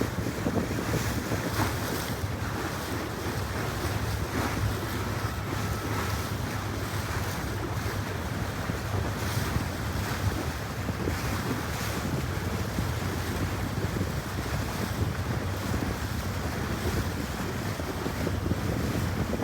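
Steady wind and surf wash around sailboats on open water near the start line of an evening twilight race, a continuous roar with heavy wind buffeting on the microphone and no talk.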